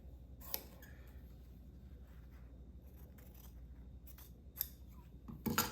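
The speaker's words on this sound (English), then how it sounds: "Let me cut it a little bit longer than what I need." Scissors snip through plaid fabric for a button-on bloomers waistband, a few sharp cuts at the start, middle and end over a quiet room with a faint low hum.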